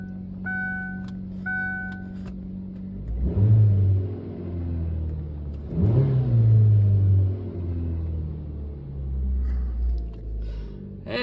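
A car engine runs with a low steady rumble, revving up sharply twice and then settling back, with a few short electronic beeps at the start and a third smaller rise near the end, no talking.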